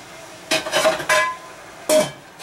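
Metal pot set down on a stove while making shrimp bisque, heard as three or four close clanks and clinks with short gaps between them.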